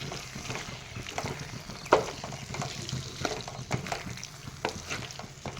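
Cumin and chili powder stirred and fried in a pan, a soft steady sizzle with scraping stir strokes and one sharp clink near the start.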